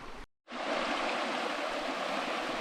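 A small tributary of the Rionora, a salmon river in Asturias, Spain, flows in a steady, close rushing and splashing wash that breaks off briefly near the start and then runs on unbroken.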